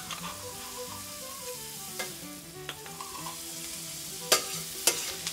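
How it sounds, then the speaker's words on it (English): Asparagus and onions sautéing in melted butter in an 18th-century style kitchen, a steady gentle sizzle with a few sharp clicks of a utensil against the pan near the end. "Once that's melted, we're going to put in our asparagus and our onions. We'll saute that for about 5 minutes."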